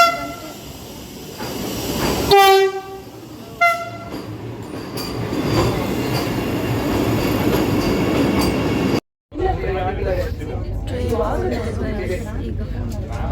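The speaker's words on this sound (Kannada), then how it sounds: "Vande Bharat train almost reach ಆಯಿತು ಗೈಸ್." A Vande Bharat train pulls in with loud, repeated blasts of its horn in short bursts, followed by a steady rumble of the train rolling close by; after a brief gap the rumble resumes alongside faint voices.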